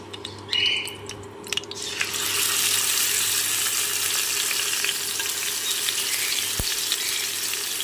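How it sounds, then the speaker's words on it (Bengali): Turmeric-coated katla fish pieces drop one by one into hot oil in a kadai. After a few clinks and a splash, a loud, dense frying sizzle builds and holds steady, close up with no voices. "তেল গরম হয়ে গেছে, একে একে মাছগুলো দিয়ে দেবো।"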